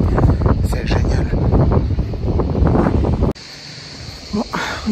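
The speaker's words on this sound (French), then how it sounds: "Je pense que vous n'allez pas m'entendre à cause du vent." Strong wind buffets the microphone on a lighthouse pier, a loud rumbling gusty roar that drops off abruptly near the end, leaving quieter wind noise.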